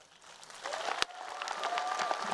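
Fairly faint applause and scattered cheers from the crowd at a League of Legends esports match in Warsaw, building slightly over a couple of seconds, with a sharp single clap or knock near the middle.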